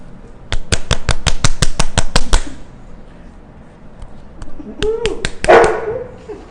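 A rapid run of sharp clicks, then a dog nearby gives a few short yips and barks.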